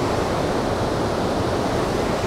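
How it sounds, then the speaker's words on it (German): Fast-flowing river near Geirangerfjord in Norway, a loud, continuous, broadband roar of rushing water with no pauses and no voices. "Was für ein reißender Fluss."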